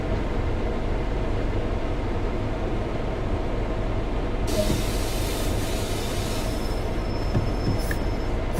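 A continuous rumbling train in Train Sim World 2 with a high, thin metallic squeal rising partway through, like wheels under braking, steady and loud throughout.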